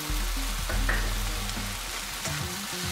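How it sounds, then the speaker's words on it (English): Onions, potatoes and carrots cook in a pan for a South Indian vegetable kurma, a steady low sizzle and frying hiss that runs through the whole stretch with faint stirring scrapes, close and moderate in volume. "Now we're just going to cook that down till the onions are a little translucent."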